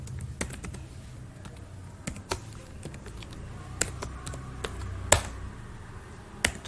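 Test code being typed on a computer keyboard, irregular bursts of crisp key clicks with occasional sharper keystrokes, close and moderately quiet against a soft room hiss, no talking.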